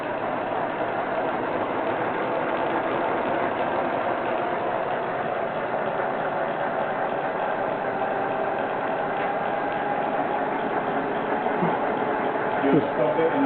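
A Nissan Leaf electric motor running unloaded while connected to a gearbox full of oil, a steady mechanical whine and hum held at even loudness, with people talking over it.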